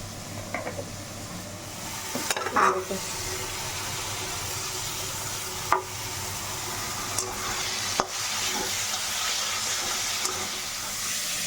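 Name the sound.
keema curry sizzling after adding turmeric water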